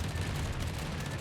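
Anti-aircraft guns on the Japanese destroyer Akizuki fire in World of Warships during a Stalingrad battle, heard as a rapid, continuous rumbling barrage of low thuds that holds steady throughout the short burst.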